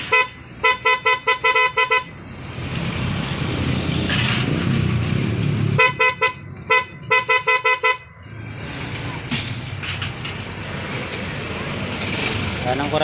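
Loud horn fitted to a TMX125 motorcycle honks in two quick bursts of repeated short toots, each a rapid stuttering train of blasts, separated by steady engine idle and background noise.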